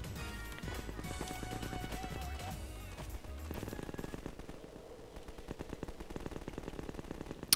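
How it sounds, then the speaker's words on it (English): Combine soldiers fire weapons in Half-Life 2 Overcharged, producing dense, rapid bursts of automatic gunfire that run continuously at moderate loudness with no voices. "They are haunted by the ghost of the combine shooting bullets that can't hurt you."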